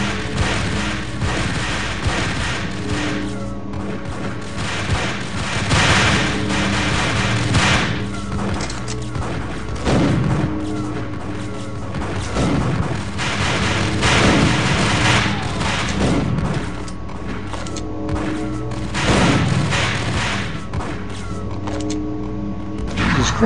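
Gunfire from the mobile shooter Max Payne Mobile rings out in repeated loud shots and thuds over the game's background sound, arriving in clustered volleys across the stretch.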